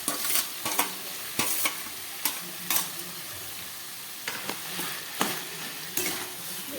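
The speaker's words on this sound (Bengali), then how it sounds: "এবার এটাকে ভালো করে এই মশলার সঙ্গে কষিয়ে নিচ্ছি।" Mushrooms marinated in ground spices and oil are stir-fried in a spice masala with capsicum. A spatula scrapes and stirs in intermittent strokes over a quiet sizzle, close and alone.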